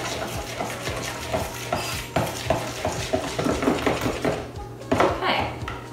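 Muffin batter of brown sugar and wet ingredients being mixed in a bowl for banana chocolate chip muffins, with a steady run of clinks, taps and scraping strokes against the bowl, close and fairly loud with a low hum behind.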